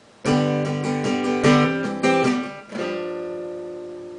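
Three chords strummed one after another on an acoustic guitar, the last one left ringing out clearly and fading.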